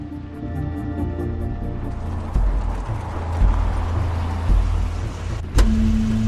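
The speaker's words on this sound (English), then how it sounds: "It's Crane's car." A car pulls up in the video game The Wolf Among Us, with a steady low engine rumble and a couple of soft thumps, ending in a sharp mechanical click.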